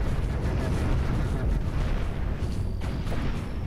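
A missile volley and weapon fire in the space-combat game Cosmoteer: a dense, continuous rumble of booming impacts and blasts, loud and sustained with no clear gaps between hits.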